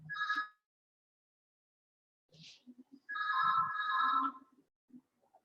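A telephone ringtone sounds in two bursts, a short electronic ring followed by a longer warbling one after a pause, clear and fairly close in an otherwise quiet room.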